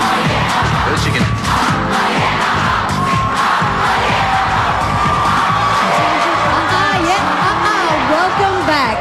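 A studio audience at a Big Brother Australia eviction cheers and whoops loudly and continuously, a dense crowd roar with shouts and yells, an amplified voice talking over it at times.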